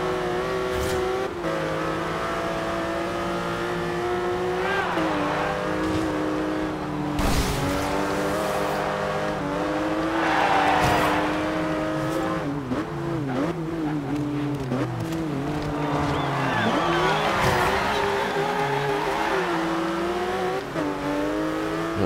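Sports car engines in Forza Horizon 2 on the Town Square Circuit whine and rev continuously, with shifting pitches as cars accelerate and pass close by, plus occasional tire squeals.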